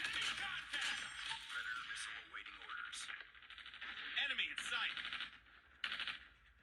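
Bursts of rapid gunfire come from an Android shooter game played with a mobile gamepad, crisp repeated shots and rattling volleys at moderate level, separated by short pauses with scattered clicks.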